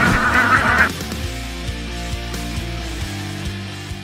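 Alabio ducks honk and quack loudly in a brief burst as they arrive at a village in South Kalimantan, and a lower, steadier backdrop continues afterward.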